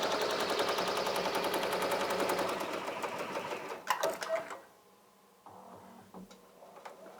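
A Ricoma MT-1501 embroidery machine runs its first stitch-out in rapid, rhythmic mechanical chatter that stops partway through, followed by a few isolated clicks and ticks close by.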